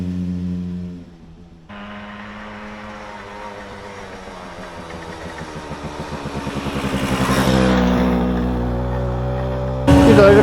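A small Suzuki K10P Sport motorcycle being ridden, its engine buzzing steadily close by, then revving up and rising in pitch through a gear before settling, with a louder burst at the end.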